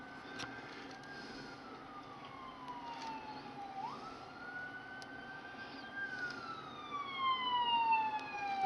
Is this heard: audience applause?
no